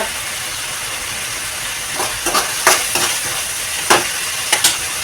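Food being stirred and mixed in a pan on a home stove, a steady background sizzle broken by several sharp scraping strokes in the second half, with no voices.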